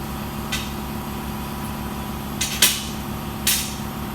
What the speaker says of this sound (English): Sorry, compressor, you get that?